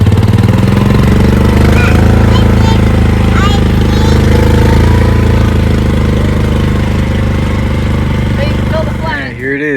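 A gas golf cart's engine runs rough while driving, with a loud, continuous mid-pitched drone and uneven knocking throughout and a brief disturbance near the end.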